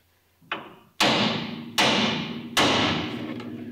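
Hammer tapping a tie rod end loose from the steering knuckle on a 1967 Pontiac GTO during a drum-to-disc brake conversion: one light tap, then three loud metallic thuds about a second apart, each ringing out briefly.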